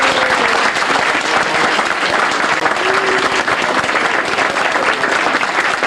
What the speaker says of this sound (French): je vous invite à les applaudir très, très chaleureusement